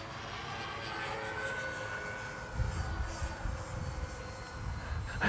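E-flite EC-1500 Twin RC airplane flying in gusty wind, a steady droning twin-motor whine with a broad rushing background, fairly distant and continuous throughout.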